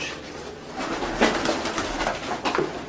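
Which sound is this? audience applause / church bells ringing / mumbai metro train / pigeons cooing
pigeons cooing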